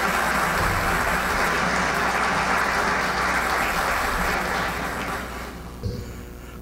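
Steady, full applause from an audience at a civic medal ceremony for Peru's environment minister, a continuous wash of clapping that softens slightly near the end.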